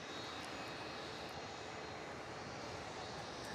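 A Jetstar Airbus A320neo jet engine spins up during pushback at Melbourne Airport: a faint, distant, steady roar with no voices.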